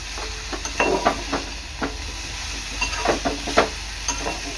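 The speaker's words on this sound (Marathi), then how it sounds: "हे मिक्स करून घ्यायचं आहे ही भाजी आपल्याला चांगली मिक्स करून घ्यायची आहे" A spoon scrapes and stirs abai bean pods frying in a pan, making irregular clattering strokes over a soft, continuous sizzle at close range.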